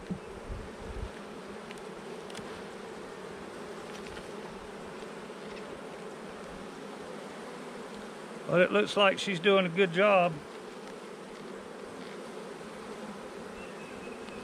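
Bees buzz around a hive of calm bees, a loud close burst of buzzing rising for about two seconds midway over a quieter steady hum, with a person talking briefly.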